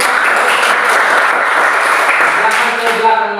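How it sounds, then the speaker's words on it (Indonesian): Schoolchildren clapping in a classroom after a group presentation, loud and continuous, with voices mixed in and the clapping thinning near the end. "Kasih sekali lagi tepuk tangan."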